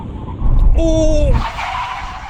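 High-performance cars, a new Audi RS6 Performance among them, braking hard from 100 mph at a brake test by cones: a rising broadband screech with a brief tonal tyre squeal, loud and close, under crowd noise.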